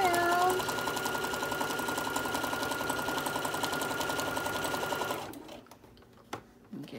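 A sewing machine stitches around a quilted kitchen hot pad in a fast, even, rhythmic whir for about five seconds, then stops, leaving a few faint handling clicks.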